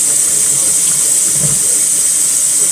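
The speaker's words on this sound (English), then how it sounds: "And we're going to put hot water in it" Hot water pours from a tap into a bucket, a loud, steady hissing rush with a bright high edge that runs without a break, no voices over it.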